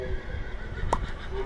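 A horse in a Minecraft game gives a single short neigh near the middle, brief and fairly clear over a steady low background hum.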